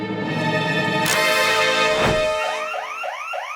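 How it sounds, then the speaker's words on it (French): A cartoon alarm blares in a French animated series about pets, a loud steady electronic tone with sweeping swells, shifting into rapid rising whoops near the end. "Il faut sonner l'alarme."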